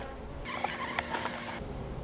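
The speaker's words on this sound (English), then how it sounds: "There's just a few bees right in this area" Honeybees buzzing around a beehive during a requeening check, a soft, steady hum that swells for about a second in the middle over quiet outdoor background.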